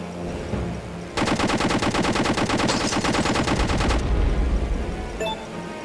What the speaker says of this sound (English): someone's shooting at us again